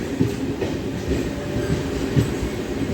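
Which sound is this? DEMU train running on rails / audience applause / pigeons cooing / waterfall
DEMU train running on rails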